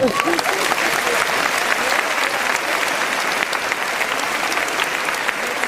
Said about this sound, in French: Je vais vous demander des applaudissements très très forts.